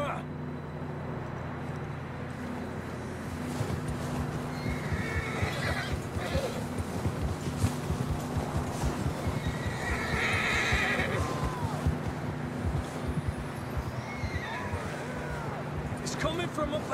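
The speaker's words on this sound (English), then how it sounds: "John was riding that horse when we left Blackwater." A horse in the video game Red Dead Redemption whinnies loudly twice over a low droning background, with hoof clops and a voice speaking faintly between the calls.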